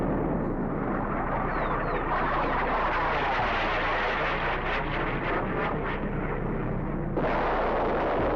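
A dense, steady battle ambience from the video game Duke Nukem 3D rumbles without pause, with booming explosions and artillery-like thuds layered into a continuous roar.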